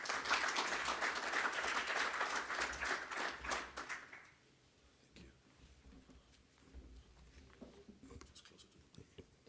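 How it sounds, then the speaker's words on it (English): A conference audience at a biomass industry fair gives dense applause for the head of cooperation as she comes up to speak. The clapping is loud for about four seconds, then cuts off, and quiet room noise follows. "please give a warm round of applause to the head of cooperation"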